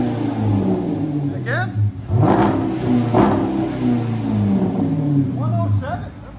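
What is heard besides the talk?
Dodge Durango R/T 5.7L HEMI V8 exhaust revving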